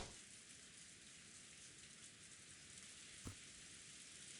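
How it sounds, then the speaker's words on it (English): Rain falling on a rose garden in a visual novel game, a steady, soft hiss of rainfall with one brief tap near the end. "silent but for the sound of the falling rain"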